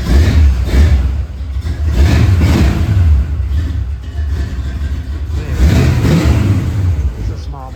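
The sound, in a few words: Chevelle small-block engine revving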